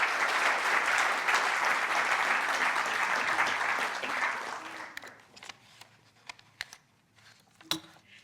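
Warm audience applause greets a lecturer at an evening engineering lecture, a dense, sustained clapping that fills the first five seconds, then thins into a few scattered, isolated claps before falling quiet.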